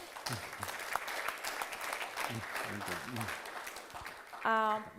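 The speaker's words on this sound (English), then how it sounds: "Could you kindly give a round of applause to the panelists before we open the session?" A conference audience in Geneva claps for the panelists at an Islamic finance event, steady applause filling the room with voices talking over it.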